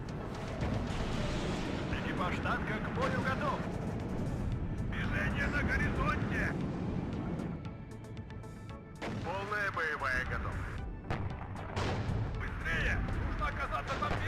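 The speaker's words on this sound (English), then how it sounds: "There's the artillery support for them." Artillery support firing in the real-time strategy game WARNO, heavy booms and rumbling barrages recurring through a continuous battle din, heard under a player's speech.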